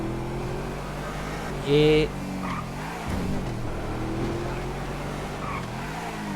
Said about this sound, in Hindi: ये सिक्योरिटी गार्ड की गाड़ियाँ भी जा रही हैं